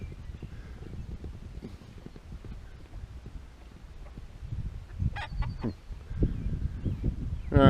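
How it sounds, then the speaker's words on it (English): Steady hoof clip-clop from running horses fills the clip, with a brief bird honk or squawk near the end and rising noise at the close. "Well, the horses are running."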